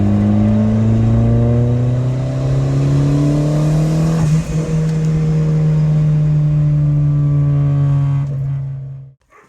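A car fitted with a custom HKS blow-off valve revs loudly and close, its engine tone climbing and sliding in long sweeps, then cutting off abruptly near the end.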